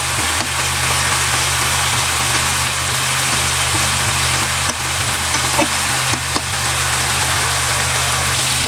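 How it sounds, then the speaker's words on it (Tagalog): Chicken and pork pieces browning in a pan for adobo give a steady, dense sizzle that runs loud and unbroken throughout, with no talk over it. "Lulutuin muna natin yan hanggang sa golden brown ng konti."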